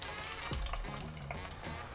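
Thick-cut potato chips deep frying in hot oil for fish and chips, a soft, steady sizzle and bubbling with a few low thuds, faint and close, no talking.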